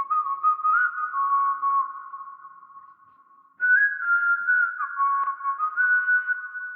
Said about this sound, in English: he did this amazing whistle and it sounds really amazing